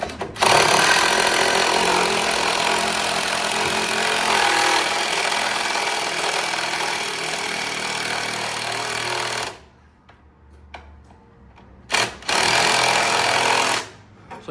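A power drill bores a pre-drilled hole through the wall of a Grand Design RV during a loose wall repair, a loud continuous grinding run of about nine seconds, then a pause and two shorter bursts.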